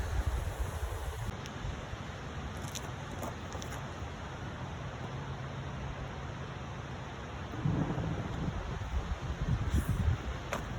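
Steady broadband wind noise on a video game golf course roars continuously throughout, swelling slightly toward the end, with no voices present.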